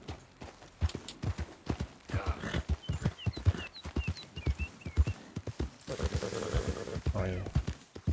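A horse clip-clops along in Red Dead Redemption 2, rhythmic hoof beats close by with a brief whinny, while a person talks over the gameplay.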